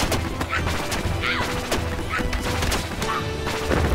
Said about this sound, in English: so basically just tosses an ice explosion.